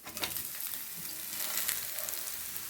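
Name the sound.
soya oats fenugreek masala roti frying on medium flame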